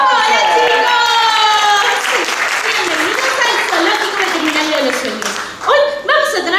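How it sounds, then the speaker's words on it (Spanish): Children applaud loudly to welcome a teacher at a school show, dense clapping and excited cheering voices throughout, with shouting children rising above the claps near the end. "¡Fuertes aplausos!"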